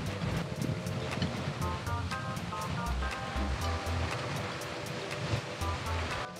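Ocean waves on the beach at Sual, Pangasinan, a continuous wash of surf with wind buffeting the microphone and faint background sounds.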